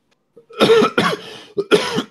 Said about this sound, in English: Oh God, coughing my lungs up.